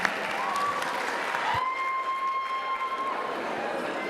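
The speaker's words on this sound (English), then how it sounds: "A round of applause for our committee members." A crowd at an anniversary concert of a folk dance ensemble claps in sustained applause, a dense steady patter throughout with a faint tone running underneath.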